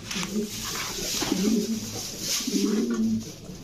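Male Gorgori pigeon cooing in a loft among other pigeons, two rolling coo phrases close by with background chatter and bird noise.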